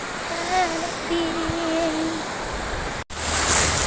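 Steady broadband wash of waves and surf at a beach in Rayong, Thailand, with a voice speaking briefly over it and a short dropout near the end.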